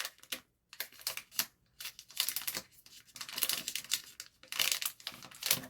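A plastic bag holding an action camera is crinkled during unpacking, giving irregular bursts of close, crisp rustling and crackling separated by brief pauses, with no talking.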